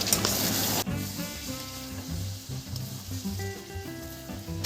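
Mutton and whole potatoes frying in oil until the fat separates, a loud close sizzle bursting at the start and then settling into a steady crackle with light stirring.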